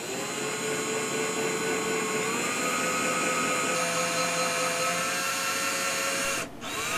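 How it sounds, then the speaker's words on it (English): A power drill bores mounting holes for outlet boxes inside a cabinet, giving a steady close motor whine that shifts pitch partway through and cuts off near the end, with no speech. "So now with all four mounting holes pre-drilled"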